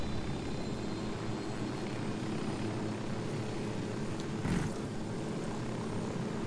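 A helicopter in Ghost Recon Wildlands gives a steady, droning rotor and engine rumble that stays constant and fairly quiet throughout, with one brief louder swell near the end and no talking.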